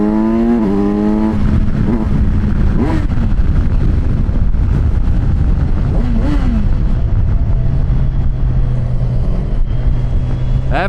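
A Kawasaki Versys 1100 motorcycle engine drones at high revs, its pitch climbing and shifting steadily under heavy wind rush against the microphone.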